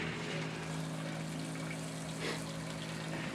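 Small electric pump drawing water out of a home hot water heater into a bucket, a steady close whine with rushing, splashing water that holds evenly throughout.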